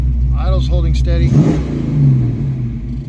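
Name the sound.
Ford 302 V8 car engine revving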